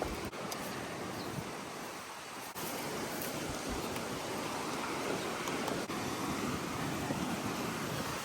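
Broadband roar of ocean surf breaking on a Caribbean reef shore in onshore wind, steady and loud throughout with wind buffeting the microphone, no talking.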